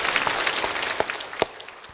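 Church congregation applauding during a service, a dense wash of many hands clapping with a few sharper individual claps standing out, steady and moderately loud.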